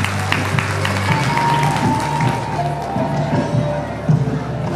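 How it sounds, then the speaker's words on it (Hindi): An audience at a school annual award function applauds for a mattress company owner, with steady massed clapping and crowd noise under a hum of music, lasting several seconds. "मैट्रास कंपनी के ओनर के लिए जोरदार तालियां हो जाए"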